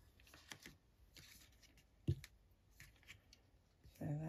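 Scissors snip thread while binding an envelope in a teabag journal, with a few soft, close, faint clicks scattered over rustling handling noise.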